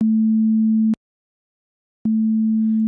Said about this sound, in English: So now I'm going to combine two sine waves at 0-degree phase shift.